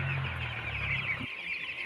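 Seventeen-day-old chickens clucking and cheeping in a dense, steady chorus close by, with a lower fowl voice that drops out partway through while the higher chatter continues.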